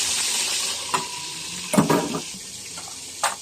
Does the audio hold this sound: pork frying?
yes